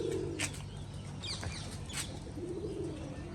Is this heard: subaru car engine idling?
no